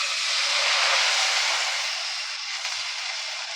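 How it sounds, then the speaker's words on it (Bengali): Milk poured into a hot pan of fried vermicelli sets off a loud, broad hiss of steam and sizzle that fills the clip and fades only slightly toward the end, with no voices. "এবার আমি এই দেখো দুধ ঢেলে দেবো।"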